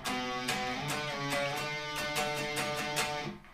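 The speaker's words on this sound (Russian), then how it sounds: "вступление на второй гитаре звучит так" A second electric guitar plays the intro riff of Pornofilmy's song "Ritualy", repeated plucked notes with steady, evenly spaced attacks and sustained tones. The riff fades out at the end.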